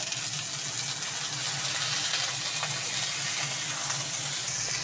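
Potatoes fry with browned onions in a pan, giving a loud, continuous hiss and crackle of hot oil throughout, close and unbroken, with no talking.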